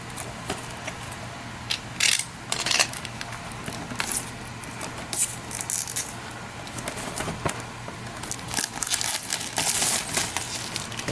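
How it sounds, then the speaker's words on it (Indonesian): Plastic packaging of a 6-inch Batman Dark Knight Rises figure being opened by hand, with bursts of crinkling and rustling, sharp crackles at intervals, close and alone. "Kita buka aja si plastiknya, kita buka dulu."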